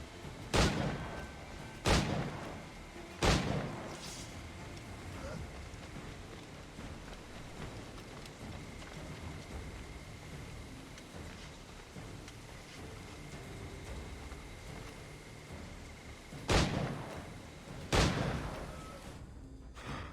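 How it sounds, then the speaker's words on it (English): Pistol shots to the head in Assassin's Creed Black Flag ring out as sharp, spaced cracks, three early and two more near the end, over a faint ambient background. "That's a lot of shots to the head."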